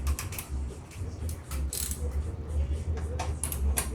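A ratchet turning a 10mm socket on a 6-inch extension loosens the muffler band on a 2014 Kawasaki Ninja 1000, giving a quick run of close, dry clicking bursts over a low background rumble.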